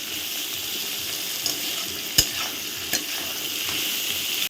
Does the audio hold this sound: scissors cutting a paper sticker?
no